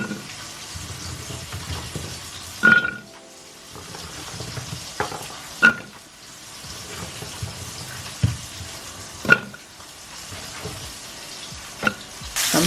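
Beef pot roast browns in a hot pot for a slow cooker meal, giving a continuous moderate sizzle broken by periodic louder thumps and scrapes as the meat is shifted and turned.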